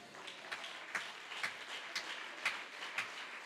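Applause from a church congregation during a Spanish-language sermon, a steady wash of many hands clapping with a few sharper peaks, heard at moderate distance without speech over it.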